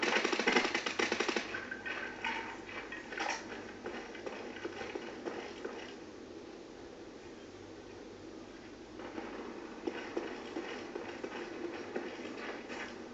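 Rapid bursts of AK-47 automatic fire in a video game, a loud rattling volley at the start, then shorter intermittent bursts over quieter background game noise.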